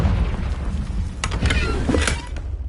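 Confringo fire spell explosion in the video game Hogwarts Legacy, a deep rumbling boom with crackling bursts over a loud continuous low roar.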